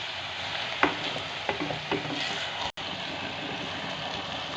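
Mixed vegetable curry of potato, peas and carrot being stirred and fried in a pan, a steady close sizzle with a few soft spoon scrapes and knocks, one brief dropout near the end, no talking.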